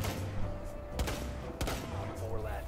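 Bursts of shotgun gunfire in the tactical shooter game Rainbow Six Siege, with sharp blasts near the start, around one and 1.6 seconds, amid a busy game backdrop and faint voices.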